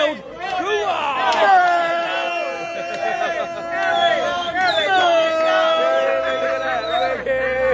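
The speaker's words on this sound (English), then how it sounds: "And the crowd went wild." A crowd at a beach bar in Benidorm cheers and whoops wildly, many voices shouting together in loud, sustained bursts of excited yelling that rise and fall, close and boisterous.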